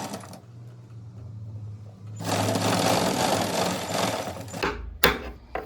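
A sewing machine stitches a hook-and-eye strip onto a blouse in a loud, steady run of about two and a half seconds, followed by a few clicks and handling knocks.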